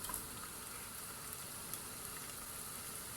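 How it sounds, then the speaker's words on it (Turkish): Onion and tomato paste sautéing in a pan produce a soft, even sizzle, quiet and continuous, with no voices. "Kokusu çıkana kadar kavuruyoruz soğanla salçayı"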